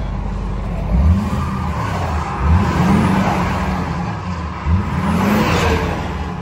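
A truck carrying a Lance camper drives along a road, its engine a steady loud drone with repeated surges of revving as it pulls up to speed, with no talk.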